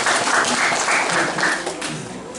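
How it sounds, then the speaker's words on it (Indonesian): A congregation at a Christmas church service claps together in a dense, loud burst of applause that tapers slightly toward the end, with faint voices underneath. "Berikan tepuk tangan Tuhan kita."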